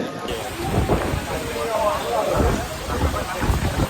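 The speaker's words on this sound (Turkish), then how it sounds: "Evet şu an yağmur yağıyor" A heavy downpour in Thailand, a steady, loud wash of rain close by that continues throughout, with voices speaking over the roar.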